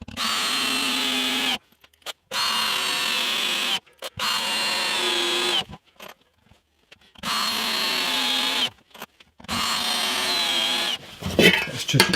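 A power drill driving long screws into the base of a wooden jig for shaping guitar necks, four loud sustained whirring runs separated by short silences, ending in a few clattering knocks.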